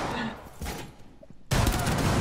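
Gunfire in Rainbow Six Siege: a rough burst of shots, then a sudden loud, dense volley from about halfway on, with faint voices underneath.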